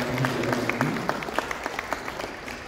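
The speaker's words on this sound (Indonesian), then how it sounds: "Kita berikan aplaus untuk semua ini." An indoor audience at a formal ceremony applauds steadily, with dense, even clapping that holds at a moderate level for a few seconds.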